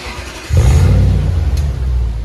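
A Lexus GX470 with a 4.7L V8 and a muffler-delete exhaust jumps from idle into a loud, deep rev that holds and wavers briefly, close and raw.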